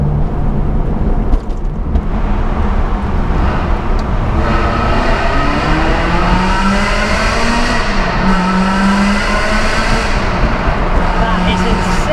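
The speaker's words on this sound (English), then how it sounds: "what this V8 really sounds like, I am heading towards a set of tunnels which have finally been reopened" A Ferrari 360 V8 in sport mode revs hard through road tunnels, a loud, sustained engine roar with rising and falling pitch sweeps as it accelerates and shifts, echoing continuously throughout.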